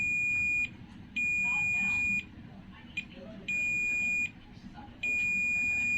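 Multimeter continuity buzzer sounding in long steady high-pitched beeps, five in a row separated by short gaps, while probing the legs of a shorted MOSFET in a Samsung 40-inch LED TV that trips the household meter when plugged in, faint background noise between beeps.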